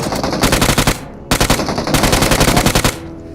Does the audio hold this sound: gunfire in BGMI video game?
yes